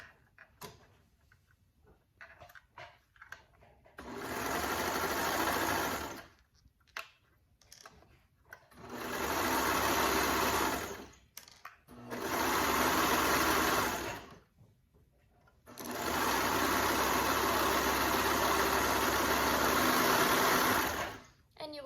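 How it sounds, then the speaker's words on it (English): A sewing machine stitches raglan sleeves in four separate runs of loud, steady whirring, each lasting a few seconds, with quiet handling clicks and fabric rustle in the pauses between them. "All right, let's go ahead and sew that."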